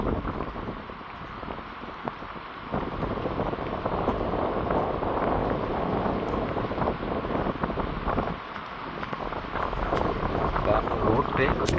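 Strong wind and heavy rain sweep a street corner in Jaffna, a continuous rushing roar with gusty buffeting, while a voice talks over it throughout.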